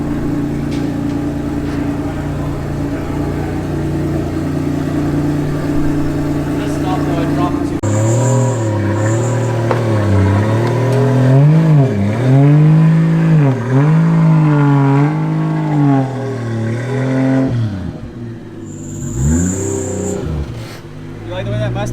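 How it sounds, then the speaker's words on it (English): The engine of a 2JZ-swapped Ford Mustang revs repeatedly at a dyno session, rising and falling in loud, close sweeps, while people talk over it. "You like the way that Mustang sounds?"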